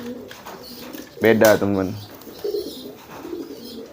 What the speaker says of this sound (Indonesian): Ini dua merpati yang berbeda loh